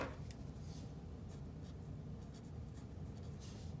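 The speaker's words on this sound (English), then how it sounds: "So then I write down in a sentence here, Kate" Pen or pencil writing a sentence on paper during a math lesson, a steady soft scratching that runs for a few seconds with faint strokes and no talk.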